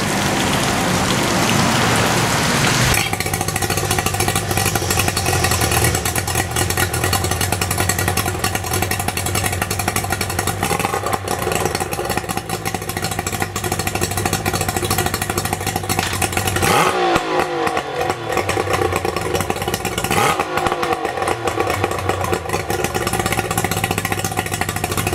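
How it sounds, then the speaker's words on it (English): A 2001 Tohatsu 50HP tiller outboard engine, recently repaired after sitting in storage, starts up and runs: a harsh, steady mechanical drone with a broadband spray-like hiss, loud and close, dipping briefly twice before resuming at a constant idle. "I'm gonna start the engine to show you guys how well the engine runs now."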